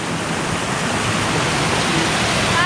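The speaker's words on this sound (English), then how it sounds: "This is Al's waterfall" A waterfall near a creek, a steady full-band rush of falling water that holds evenly throughout, close and fairly loud with no voices.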